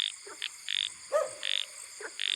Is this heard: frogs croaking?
yes